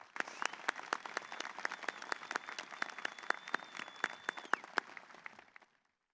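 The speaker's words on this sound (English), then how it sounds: "Please join me at this time in giving them a round of applause to show our gratitude." A small audience at a high school graduation gives a round of sparse, distinct applause for several seconds. The individual claps are clearly separable, and a faint tone hums underneath before the clapping stops.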